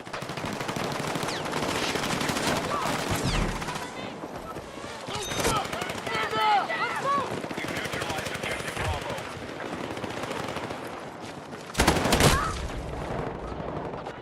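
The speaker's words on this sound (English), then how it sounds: "Excuse me if I shoot that post and not the guy I'm trying to go after." Video game gunfire, rapid bursts of automatic machine-gun shots and single cracks, loud and close throughout, with voices shouting in the mix.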